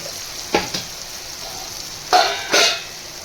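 Meat hits a hot pan of salted spices for a mixed tadka, giving short hissing sizzles and stirring scrapes in a few quick bursts over a steady quiet background.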